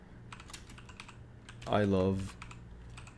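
Typing code on a computer keyboard, a rapid patter of close key clicks that continues on either side of a short spoken phrase.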